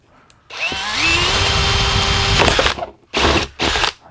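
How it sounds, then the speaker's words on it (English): A power drill with a spade bit whirs up and bores steadily through material for a couple of seconds, then stops, followed by two short bursts of drilling close by. "I'm just gonna drill this hole through."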